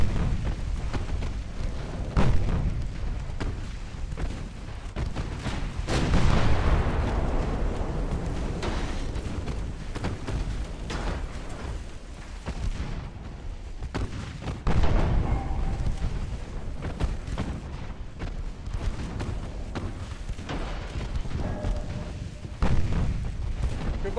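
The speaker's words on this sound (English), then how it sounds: "torpedo detonation" Torpedo hits in the naval game Ultimate Admiral Dreadnoughts, a long stretch of heavy rumbling booms and deep thuds that swell and fade repeatedly over continuous battle noise, with a big blast near the start and another midway.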